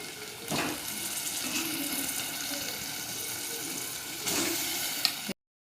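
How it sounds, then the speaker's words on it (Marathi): Chicken pieces dropped into fried masala in a pan for a spicy Kolhapuri chicken curry, a steady sizzle running throughout with a louder splashy burst as they land and another toward the end. "आता हे चिकनचे पीस मी टाकून घेते"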